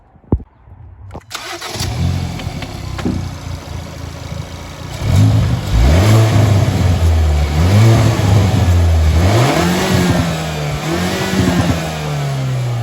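A Hyundai i30 N engine fitted with a Forge induction kit and turbo elbow starts, then revs up and down repeatedly with a throaty intake note, rising and falling in several loud surges close by.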